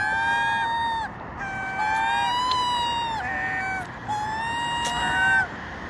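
A seagull squawks in three drawn-out, harmonic cries over a banana at breakfast, loud and close, with short pauses between calls over faint background noise.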